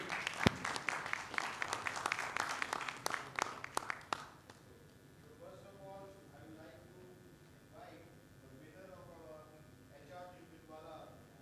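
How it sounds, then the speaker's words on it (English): Applause from a conference hall audience fills the first four seconds with dense clapping, then fades out as a person begins talking. "A big clap for all of you."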